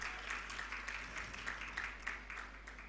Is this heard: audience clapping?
yes